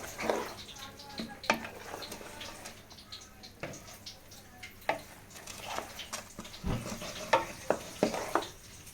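A spoon stirs food in a cooking pot, giving close, irregular scraping strokes and soft knocks over a low sizzling background, with a quicker flurry of taps near the end.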